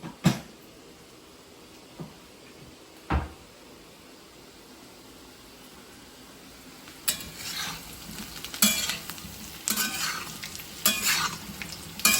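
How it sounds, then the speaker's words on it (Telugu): Small taro pieces frying in a ceramic pan, a quiet steady sizzle with a few sharp knocks early on, then scraping stir strokes at irregular intervals toward the end, close up with no talking. "ఇది కొంచెం వేగాలి, అక్కడక్కడ తెల్లగా ఉంది, కొంచెం ఫ్రై అవ్వాలి."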